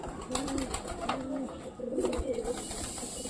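Soft, low pigeon coos repeat several times close by, with faint rustling and light background noise.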